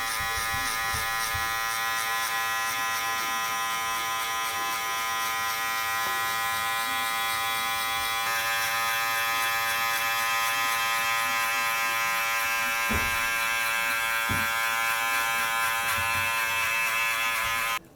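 An electric hair trimmer buzzes continuously and close up while cutting a mid fade in a barbershop-style haircut, a steady high-pitched motor drone with faint snips and shifts in tone as it moves through the hair.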